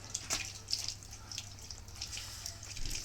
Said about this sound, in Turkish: Evet şimdi durulamaya geçelim.